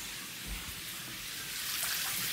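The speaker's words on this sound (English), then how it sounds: "A brand new shower head has been broken and it's spraying out water there." Water sprays from a broken brand-new shower head in a steady hissing rush, close and fairly constant, growing slightly louder toward the end with no talk.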